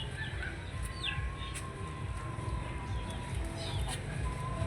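Chickens inside a rural hut on a provincial farm in the Philippines, with soft clucks and occasional calls over a steady, noisy background, fairly close but not loud.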